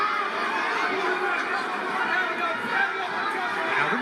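Boxing arena crowd roaring on its feet during a fight, a dense, steady wall of cheering and chatter with scattered laughter, loud and continuous throughout.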